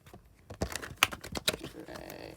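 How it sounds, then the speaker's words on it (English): Tarot cards are shuffled by hand, giving a quick series of crisp riffling snaps and soft slaps, close up and lasting about two seconds. "Shuffle one more time that way."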